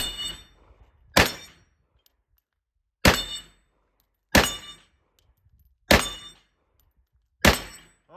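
M1 carbine in .30 carbine fired at steel targets including a dueling tree, five sharp, loud reports spaced a second or two apart, each with a short ringing tail and near silence between.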